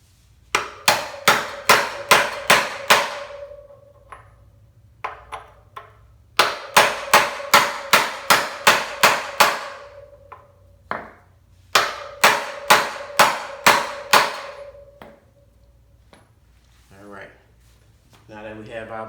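A socket is hammered against a wheel bearing to drive it into a dirt bike wheel, making three runs of about eight rapid, sharp metallic blows each, separated by short pauses, loud and close.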